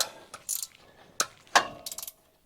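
Several short ratchet clicks sound close by as a wrench loosens a bolt on a 1969 Pontiac GTO engine, coming in quick separate bursts with brief pauses between.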